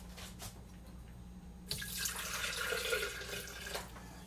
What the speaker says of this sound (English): I'll put 3 cups of water in it and kind of rinse it out a little bit.